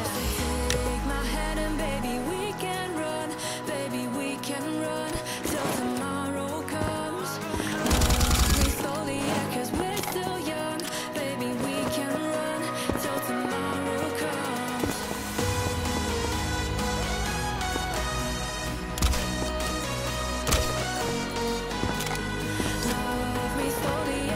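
Automatic M4 rifle fire in the video game Combat Master, dense sustained bursts over a continuous game soundtrack, loud and close throughout with a brief louder blast in the middle.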